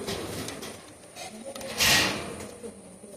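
A pair of Teddy Baby pigeons, male and female, give soft low cooing in a short burst, with faint rustling and one louder scuffle partway through.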